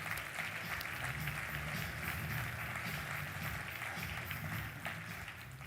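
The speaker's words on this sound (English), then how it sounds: "let's give our gold sponsors a round of applause" Audience applause for gold sponsors at a travel industry conference, a steady, dense wash of clapping from a large crowd that fills the hall for several seconds before easing slightly at the end.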